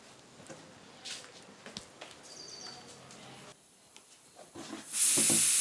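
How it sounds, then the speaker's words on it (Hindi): A pressure cooker on a stove bursts into a loud, sharp steam hiss near the end, after a stretch of quiet room sounds and faint background activity. "अरे यार कुकर चढ़ा था।"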